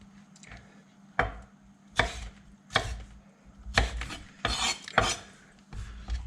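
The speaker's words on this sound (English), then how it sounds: "let's just kind of do a rough chop." Knife rough-chopping vegetables on a cutting board for a beef stir-fry, about eight loud, close, sharp chops at uneven intervals with quieter scraping between them.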